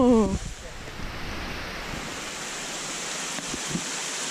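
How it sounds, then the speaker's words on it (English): Rain falls steadily outdoors as a broad, constant hiss with a gusty, noisy edge, following a brief voice at the start. "rain's starting to pick up again"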